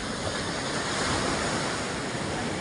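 Steady roar of sea waves breaking on a shore, continuous broadband surf wash with wind, close and fairly loud, no voices.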